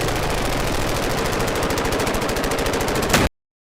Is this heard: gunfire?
yes